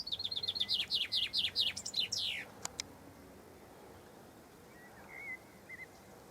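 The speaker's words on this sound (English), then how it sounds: "Bird song, I could listen to that all day." A bird sings a quick series of bright, repeated chirping notes for about two seconds on a countryside byway in Wales, then falls quiet, with a faint distant call later.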